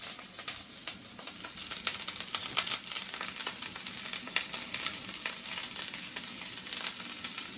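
Steady, close crackling sizzle of cremini mushrooms frying in olive oil, with dense popping and spitting throughout and no talking.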